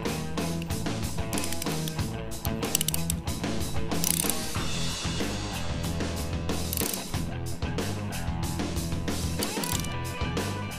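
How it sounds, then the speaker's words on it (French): A motorcycle chain breaker tool presses a chain rivet on a café racer build, heard as close, continuous, dense metallic ratcheting and grinding clicks over the whole stretch, with no talking. "Ne serrez pas ici non plus le dérive-chaîne trop fort"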